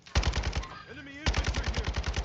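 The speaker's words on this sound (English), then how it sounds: "I'm taking fire." Automatic gunfire in the video game DMZ Warzone 2.0, two rapid bursts of evenly spaced shots separated by a brief pause where a voice speaks, close and punchy.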